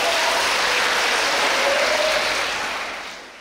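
Applause from an audience at a Buddhist dharma talk, a thick, even wash of clapping that holds steady and then fades out toward the end.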